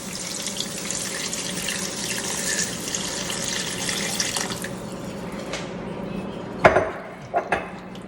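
Chicken broth pours steadily into a skillet of pasta with tomatoes, a continuous liquid splash that ends at about six seconds, followed by a few sharp metallic clinks of a pan or utensil.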